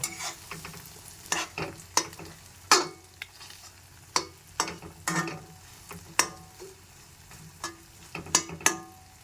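An egg is stirred and broken into small pieces as it fries in a pan, with a steady soft sizzle under repeated sharp scrapes and taps of a spatula against the pan, close and fairly quiet.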